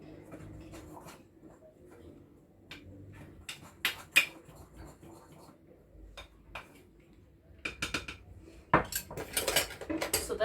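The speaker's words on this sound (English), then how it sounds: "I'm going to mix them together" Metal utensil clinks and scrapes against a bowl as baking soda is stirred into dry ingredients for a pineapple almond cake, irregular taps and clatters, fairly close, busier toward the end.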